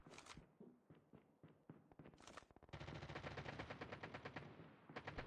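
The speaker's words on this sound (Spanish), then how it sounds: "Están disparando." Gunfire in the mobile shooter Call of Duty Mobile on the Alcatraz map: several separate shots first, then a sustained rapid automatic burst that rattles on loudly and steadily, with a short volley at the end.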